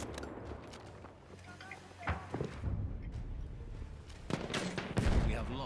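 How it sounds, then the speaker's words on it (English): Bursts of machine gun fire in the video game Battlefield 1 crack out amid distant battlefield gunfire and impacts, growing louder in rapid clusters toward the end, with game voice callouts mixed in. "Machine gun, look alive! Spotted a machine gun!"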